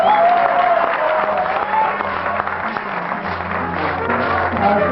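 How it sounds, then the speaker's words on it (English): Audience clapping at a national rebirth campaign launch in Lagos State, a sustained, even wash of applause from a large crowd, loud and continuous, with faint voices mixed in beneath. "I think we don't deserve another round of applause."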